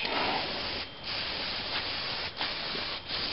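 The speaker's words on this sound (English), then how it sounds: "I like spraying this disc brake quiet on there" A can of disc brake quiet is sprayed onto a bolt on a Honda Civic during control arm replacement, a steady close hiss lasting a few seconds with brief pauses between bursts.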